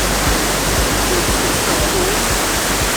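A waterfall in Thailand roars as a loud, constant wash of water, near and unbroken, with a few soft low thumps beneath it.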